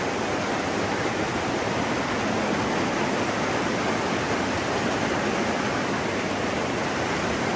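Heavy rain pours on a house with a leaking roof, a dense, unbroken roar of water that stays constant and close throughout, with no voices.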